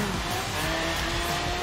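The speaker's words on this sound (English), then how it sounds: "Look at Black just drifting everywhere." Cars drifting with steady engine drone and tire noise in the racing video game Forza Horizon 3, during a multiplayer session, continuous and fairly loud throughout.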